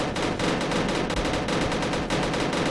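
Sustained automatic gunfire in the Uprising 44 shooter game, loud dense bursts of rapid shots rattling continuously close by, with no talk.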